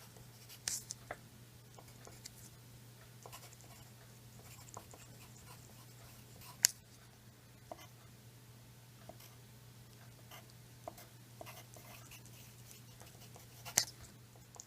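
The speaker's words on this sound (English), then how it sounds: "We can write these out to the side" Pen strokes write out physics equations on paper, faint scratching with sparse sharp ticks and taps spread across a quiet, low hum.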